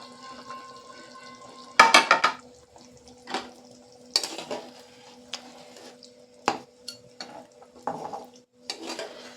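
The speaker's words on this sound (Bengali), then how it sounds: "ভালো করে একটু নেড়ে দেব।" A spoon stirs fried fish into a mango curry in a pot, producing intermittent scraping and clinking against the metal over a soft low simmer, in short separate bursts up close with no talking.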